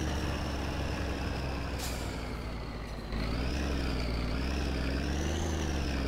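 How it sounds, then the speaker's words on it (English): A train passes in the video game My Summer Car, heard as a loud, sustained mechanical drone with tonal whines that shift in pitch as it moves, with a brief hiss partway through and no voices. "There goes the train now"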